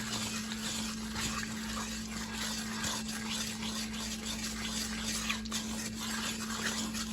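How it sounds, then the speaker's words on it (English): Sugar slowly caramelizing in a pot while being stirred, a soft steady bubbling hiss with faint scraping and occasional light clinks of the utensil against the pot. "I have been stirring this whole time"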